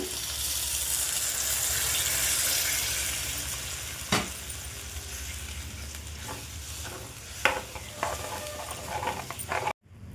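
Water added to a ridge gourd curry cooking in a pan, with a loud continuous sizzle that fades into softer bubbling and a few sharp clatters and stirring knocks near the end.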